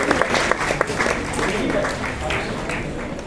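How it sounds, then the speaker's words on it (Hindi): An audience claps for an 84-year-old woman poet at a Hindi poetry recital, a steady mass of applause with a few sharper individual claps, mixed with talk and crowd murmur. "तो जरा एक बार तालियां बजा दीजिएगा दीदी को"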